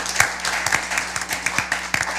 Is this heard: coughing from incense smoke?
no